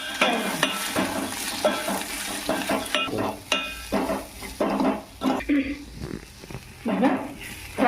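Sprouted moth beans with turmeric fry in a pan for North Karnataka-style misal, with repeated spatula scrapes and stirring strokes over a soft sizzle, close and fairly quiet.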